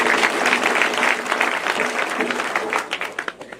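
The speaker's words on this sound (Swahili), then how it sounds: "Pigeni mheshimiwa makofi." Applause for an honoured guest at a Kenyan community gathering fills the clip: dense, sustained clapping from a crowd, steady through the first seconds and thinning into scattered claps near the end.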